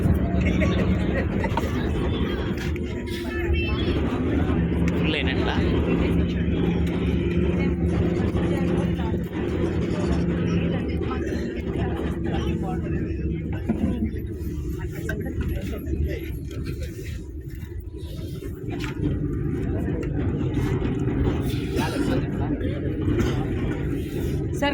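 A bus engine rumbles low and steady throughout a drive, heard from inside the vehicle while passengers talk over it.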